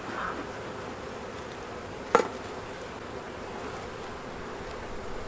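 Honey bees hum around an open hive frame in a dense, steady drone from start to finish, with one short knock partway through.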